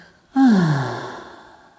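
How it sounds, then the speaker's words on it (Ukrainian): One deep breath during a guided heart meditation, a single audible inhale and exhale with a sighing quality, close and quiet, alone. "глибокий вдих і видих"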